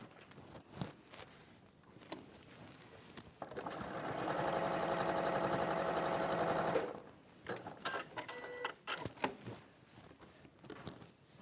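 A sewing machine stitches fabric pieces for a quilted row, running in one steady, fairly loud burst of several seconds, with quieter handling and clicks before and after.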